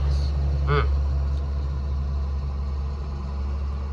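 A tractor pulling a peanut picker runs steadily in a field, a loud, even low engine hum throughout, with a short voice-like sound early on.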